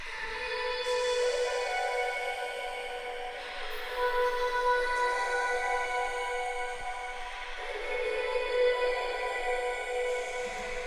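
A high vocal transposed up an octave, with a glassy auto-tuned quality, drifts between held notes, washed in heavy reverb with no backing beat.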